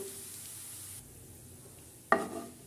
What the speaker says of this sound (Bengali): এই তো হয়ে গেছে পেঁয়াজ ভাজা।